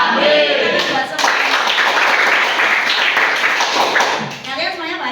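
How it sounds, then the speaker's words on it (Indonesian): A group claps together during a 'happy clap' chant, making loud, sustained, dense clapping with voices chanting over it before and after. "1, 2, tepuk bahagia."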